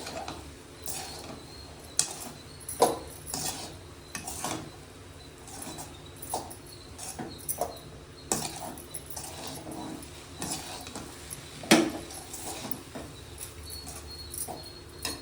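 A spoon stirring egg rice seasoned with pepper powder in a pan, making irregular scrapes, taps and clinks against the metal over about fifteen seconds, up close with no talking.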